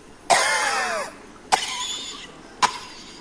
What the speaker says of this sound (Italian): Tosse.